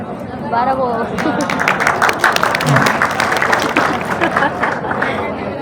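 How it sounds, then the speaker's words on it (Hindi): A classroom audience breaks into applause, a dense patter of many hands clapping that swells and continues for several seconds while someone talks over it. "बहुत अच्छी चीज है कि आप लोगों ने तालियां बजाई"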